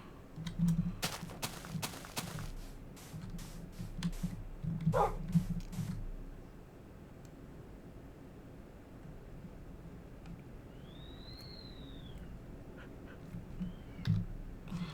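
A dog in a video game barks in a few short, low yelps over the first several seconds, mixed with sharp clicks, followed by quieter ambient game sounds and a faint rising tone.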